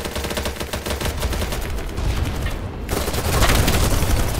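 A light machine gun fired at point-blank range in BattleBit Remastered, a continuous rapid automatic burst, loud and dense, with a short gap before the firing carries on even heavier.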